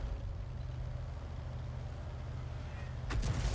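An M12 self-propelled artillery piece in a video game: a steady low engine rumble runs throughout, then a sharp, loud firing blast with a quick echo bursts out near the end.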